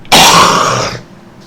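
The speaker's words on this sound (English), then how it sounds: "clear my throat" A single person clearing their throat close to the mic, one loud harsh burst of about a second that drops away, with a quiet room afterward.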